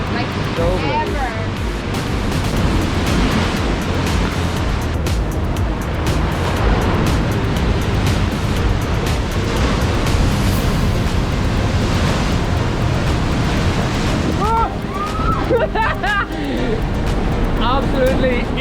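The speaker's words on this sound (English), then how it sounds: "these waves are massive" Massive ocean waves roll and crash onto a beach of very blue water in a loud, continuous roar, with strong wind buffeting the microphone throughout.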